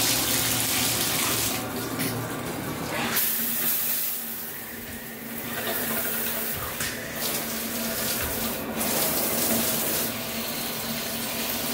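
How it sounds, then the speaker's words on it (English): A Delta shower head running water in a home bathroom with hard water, a loud steady rushing spray that shifts in tone as the flow hits different surfaces, with brief voices under it. "Kind of a weird shower head."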